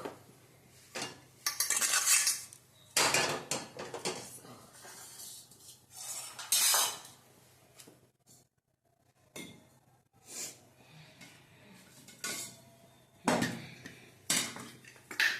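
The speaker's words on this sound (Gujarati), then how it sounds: "હવે આપણે ગેસ પેટાવીશું અને એની માથે આપણે કઢાઈ મૂકી દઈશું" A kadai set on a gas stove with metal pots and utensils clattering, bursts of loud clanks and scrapes separated by quiet gaps, close by and with no talk.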